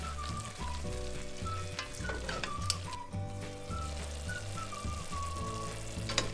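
Onions and tuna ragù frying in a pan while being stirred, a steady close sizzle with soft scraping strokes, no talk.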